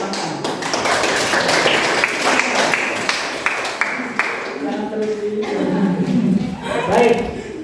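Participants in a teacher mentoring session clap together in a few seconds of quick, crisp hand claps. The clapping then fades as voices and a chuckle take over.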